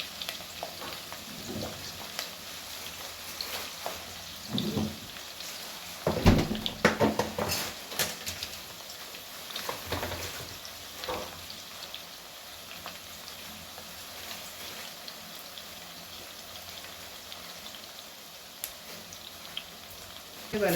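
Masala for kadai chicken fries in a pan with a steady hiss and crackle, broken by a few louder bursts of stirring and spattering partway through.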